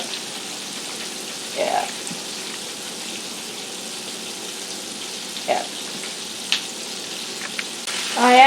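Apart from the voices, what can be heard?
Southern fried chicken sizzling in a covered pan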